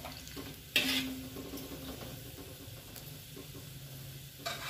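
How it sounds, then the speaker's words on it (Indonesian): Pempek fry in oil in a pan over a low flame while being stirred: a constant soft sizzle with a sharp utensil scrape near the start and another toward the end, close and fairly quiet. "karena kita sering aduk-aduk gini ya"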